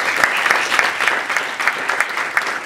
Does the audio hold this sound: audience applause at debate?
yes